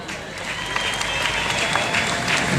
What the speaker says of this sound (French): et les fans ils peuvent s'applaudir aussi